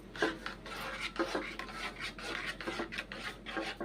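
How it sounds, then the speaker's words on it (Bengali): Beaten eggs with chopped onion and chilli get mixed in a bowl for an omelette, a close, uneven run of scraping and rubbing strokes with soft clinks, no voices. "মাখিয়ে নিচ্ছি ডিমগুলোকে"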